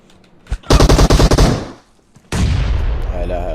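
Automatic gunfire from the shooter game PUBG Mobile: a rapid, loud burst of machine-gun shots, then a short gap, then a sustained roar of fire and blasts, all close and harsh.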